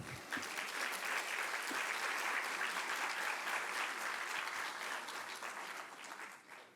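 An audience at a judicial workers' day academic event claps steadily in a dense, sustained round of applause that holds evenly before tapering slightly at the end, with no talk over it.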